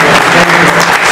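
Loud, dense applause from a crowd at an award ceremony in Monte di Procida, Italy fills the whole moment, steady clapping with no pauses.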